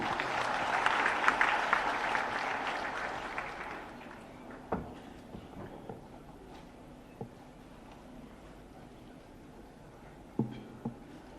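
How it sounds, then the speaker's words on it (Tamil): A hall audience at a book launch clapping, loud and dense for about four seconds before quickly thinning out to a few scattered claps and faint room noise. "அதனால் அவங்களுக்கு வந்து நம்ம கைதட்டுவோம் முதல்ல."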